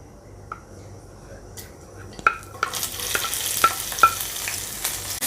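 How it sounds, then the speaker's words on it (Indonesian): Bird's eye and red chilies drop into hot oil, starting with a few light clinks of utensils against a pan, then breaking into a rising, crackling sizzle with sharp pops, close and moderately loud. "Sekarang saya akan menggoreng cabai rawit dan cabai merahnya saja."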